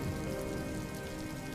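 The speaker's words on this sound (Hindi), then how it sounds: "बारिश की बूंदें अब धीरे धीरे गिरने लगी थी।" Light rain falling steadily on surfaces, a soft continuous patter with no voices.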